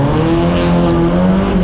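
All-wheel-drive rally car in first gear, pulling the handbrake into a tight dirt hairpin, with a loud, continuous engine roar and tire noise close to the microphone.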